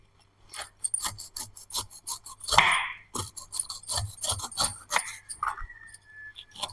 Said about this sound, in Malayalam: ഇതിനെ ഇങ്ങനെ സൈഡിൽ കൂടെ ഇങ്ങനെ കട്ട് ചെയ്തെടുക്കും